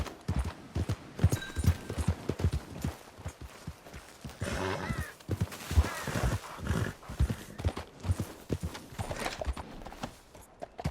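Horse hooves clip-clopping at a quick, uneven gallop in Red Dead Redemption II, with a snort or whinny partway through; close and steady, with brief bits of talk.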